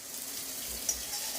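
Sabudana (sago) tipped into a pan of sizzling fried chillies, potatoes and peanuts, giving a steady, close, hissing fry with no voices.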